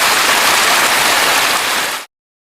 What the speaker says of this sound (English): unleash massive, splashing rainstorms that soaked everything below